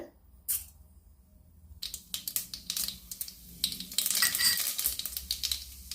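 Mustard seeds and urad dal frying in a couple of spoonfuls of peanut oil crackle and sizzle in irregular bursts, growing busier toward the end, with light clicks and spoon taps in between.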